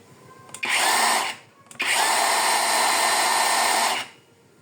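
MOLLAR 20-volt cordless circular saw spinning freely at its highest speed, a loud steady whine in two bursts, a short run that stops then a longer run of about two seconds that winds down, with no talking.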